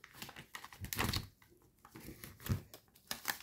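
Origami paper is folded while making a paper helicopter model, giving close, soft crinkles and sharper creasing crackles in uneven bursts, quiet overall and with no voice.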